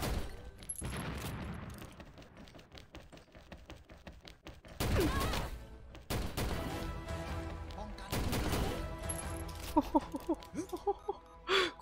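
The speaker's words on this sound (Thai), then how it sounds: "กูยิงไป6ตัวครับน้อง" Rapid bursts of video game gunfire, with loud volleys and single shots recurring across the clip, mixed with game effects and a voice talking over parts of it.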